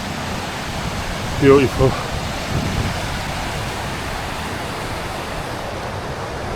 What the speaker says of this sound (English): this bridge, this few little waterfalls and things here looks absolutely amazing